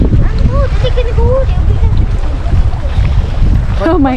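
Strong wind buffets the microphone outdoors along Highway 395 near Mammoth in the Eastern Sierra, a constant rough roar under people talking.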